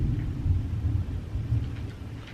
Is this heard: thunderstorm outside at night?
yes